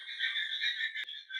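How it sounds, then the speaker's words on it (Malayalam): Frogs croak in a steady, continuous chorus of high trilling calls that carries on without a break, with no voices present. "തവള കരയുന്ന ശബ്ദമൊക്കെ ആണെങ്കിൽ ഒന്ന്"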